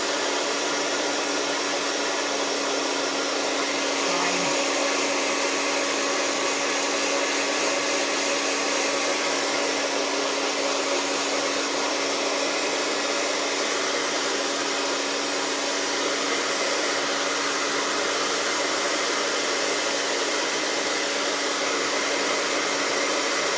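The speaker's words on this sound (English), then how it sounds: "I gotta get a new heat tool." A craft heat tool blows steadily for the whole stretch, a loud, constant broadband whoosh with a faint whine, close up and alone with no talk over it.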